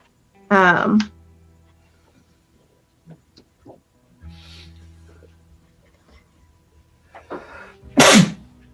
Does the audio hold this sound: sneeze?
yes